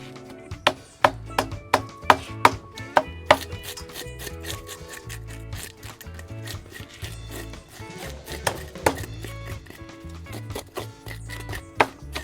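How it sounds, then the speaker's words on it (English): Scales being scraped off fresh fish for a fish broth in a kitchen in Manzanilla, Trinidad and Tobago, a run of sharp, rhythmic scraping strokes with knocks against a board, close and clear. "Let's scrape fish."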